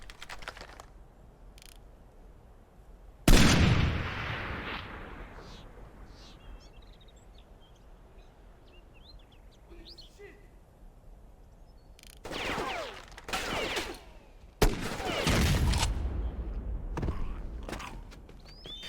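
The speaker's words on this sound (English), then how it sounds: "There'll be two guys standing guard. You want to sniper them both." Sniper rifle shots in the video game Far Cry Instincts Predator, a few sharp loud cracks with echoing tails standing out from quiet ambient game sound and faint clicks.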